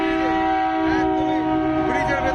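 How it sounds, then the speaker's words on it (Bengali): Steady rumble and tonal hum of a train running onto the Nashipur rail bridge during a load and speed test, with a sustained whine throughout and no talking. "ব্রিজের ভেতরে স্পিডে প্রবেশ করছে গাড়ি"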